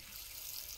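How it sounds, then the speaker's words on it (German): Watering plants in the farming game Dinkum: a steady, soft hiss of pouring water runs through the whole short moment, with no talking over it. "Oh, meine Sachen muss ich gießen."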